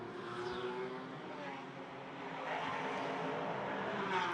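GT4 race car driving out of the tight Macau hairpin on a wet street circuit, its engine a steady broadband roar throughout that swells slightly louder toward the end.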